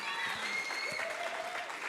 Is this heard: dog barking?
no